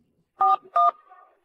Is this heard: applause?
no